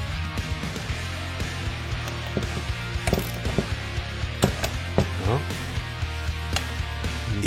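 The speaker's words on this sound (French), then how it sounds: "Il faut serrer à 80 Nm, puis continuer encore un peu à serrer jusqu'à tomber sur la première découpe et le monter ainsi" A ratchet clicks in uneven bursts while tightening a nut to 80 Nm during a classic Mini restoration. The mechanical clicking continues over a steady low hum, and someone talks throughout.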